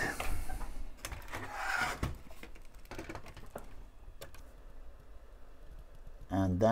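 Small screws being driven back into a De Agostini Lamborghini Countach model kit, a run of quiet irregular clicks and scrapes from close by, with speech mixed in.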